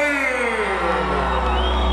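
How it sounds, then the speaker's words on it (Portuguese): A loud rodeo crowd at a bull-riding event cheers and whoops with shouts rising together, a dense roar of voices sustained throughout. "Dá um grito e bate palmas aí"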